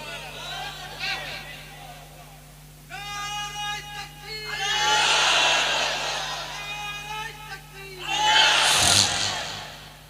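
Crowd at a Bengali religious sermon chanting the takbir together in loud surging bursts, two swelling waves of massed voices over a steady low hum, after a lone preacher's voice.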